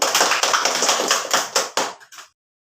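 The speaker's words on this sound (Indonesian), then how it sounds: "Tepuk tangan dong, Nan." A small group in a group counseling session claps hands in several sharp bursts, the rhythm loosening as the claps thin out and stop abruptly, leaving silence.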